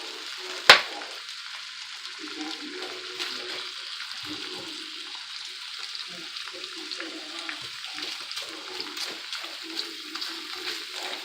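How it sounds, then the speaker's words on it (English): Sausages fry in about two tablespoons of canola oil in a pan, giving a steady crackling sizzle throughout after a sharp clack at the start, with occasional pops and low background clatter. "So now we're going to go ahead and get those sausages into the pan."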